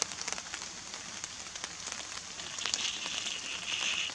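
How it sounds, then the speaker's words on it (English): Rain falling outside a tent, a dense steady patter of drops on the fabric with occasional sharper taps, close and fairly quiet, with no talk over it. "It's just started bleeding rain, isn't it?"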